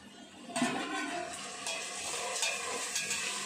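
Onions being stirred and sautéed in a pan while cooking chicken biryani, a steady close sizzle with scraping spoon strokes that start sharply and continue unbroken with no talk.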